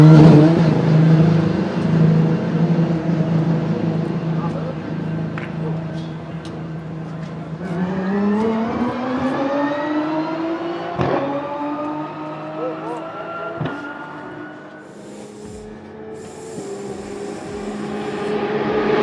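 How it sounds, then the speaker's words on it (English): A V12 car engine in Project Cars 2 revs hard at Monza, loud and close, its pitch sweeping up through repeated climbs with sharp gear-change breaks, while a voice talks over the opening stretch. "Hang on to your eardrums as you enjoy the true sound of the V12."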